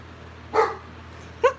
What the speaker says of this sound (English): And then he just sits and barks at the door.